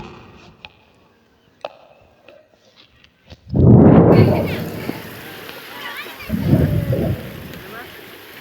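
Water splashes heavily as children play and someone pours water, two loud gushing bursts after quieter dripping and small knocks, with voices nearby.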